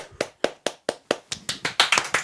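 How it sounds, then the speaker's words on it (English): A round of applause from a small group on a podcast show: about a dozen sharp, separate hand claps in quick rhythm, starting sparse and thickening toward the end, close and clear with no talk over them. "Round of applause."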